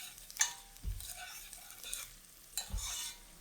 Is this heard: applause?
no